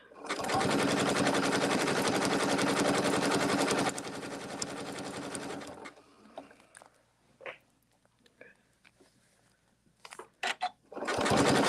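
A sewing machine stitches a quilted placemat in a fast, loud, steady whir for about six seconds, stops, then starts again at the end, with someone talking during the pause.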